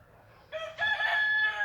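A rooster crows once in a homestead chicken coop, a close, clear, rising cock-a-doodle-doo that holds for about a second over quiet background.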